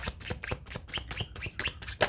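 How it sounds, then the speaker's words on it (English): A deck of tarot cards being shuffled by hand, a run of quick rhythmic riffling flicks and soft slaps, close and fairly quiet, with no talking. "I like to finish shuffling the deck"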